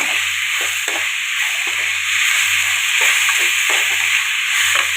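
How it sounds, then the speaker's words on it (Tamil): Tomatoes sautéing in a pan for mutton curry, a loud steady sizzle and hiss up close, broken by repeated soft scrapes of a spoon stirring, with no voices. "இப்போ நம்ம தக்காளி போட்டு வதக்கிக்கலாம்"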